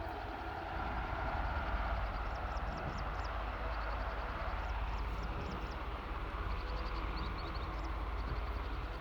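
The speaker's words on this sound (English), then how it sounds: "I think I actually hear a plane." An airplane passes over near Aberdeen airport, its engine a steady, broad roar that fills the whole stretch evenly from start to finish, with faint chirping birds heard above it.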